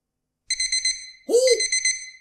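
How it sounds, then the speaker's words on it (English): An alarm rings in the horror game Baby's Nightmare Circus, two loud bursts of rapid pulsing electronic beeps, the second joined by a swooping tone. "Oh, the alarm. I'm waking up."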